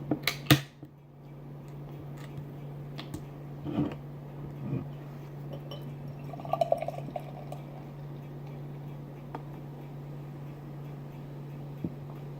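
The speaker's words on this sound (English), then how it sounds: "I don't know if you can hear that on the video, but it sounded very, very fizzy" A can of High Branch Little Man Tate Gose, a grapefruit, tangerine and blood orange sour beer, is cracked open with a few sharp clicks and then poured, with a steady soft fizzing wash over a low hum.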